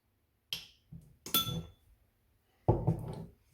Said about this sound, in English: just put your lid on, give it a twist counterclockwise so that it's loose